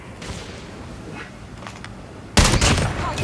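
Gunfire in a Call of Duty match, with scattered quieter shots and then a sudden loud burst of rapid automatic fire near the end.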